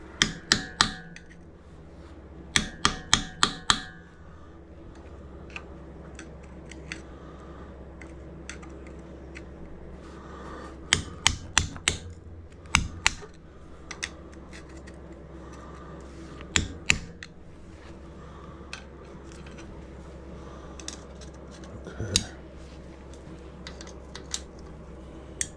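Metal lock tabs on the bottom-end bolts of a Yamaha XS650 engine are bent over during a teardown. Sharp clicks and taps come in short bursts, with quieter metallic knocks between them, over a low steady background hum.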